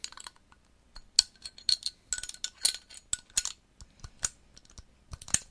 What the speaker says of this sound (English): this is the sound of a bottle